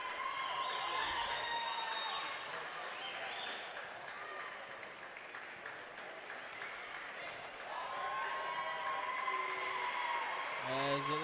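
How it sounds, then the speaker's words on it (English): The crowd at a girls high school sectional semifinal basketball game cheers and claps in a gym, a sustained, lively roar, with sneaker squeaks and an announcer talking over it. "You hear the crowd getting into it a little bit."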